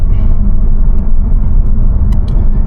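A BMW Z4 cruising on a road in Germany, heard from inside as a loud, steady low engine and road rumble that holds constant throughout, with no talking.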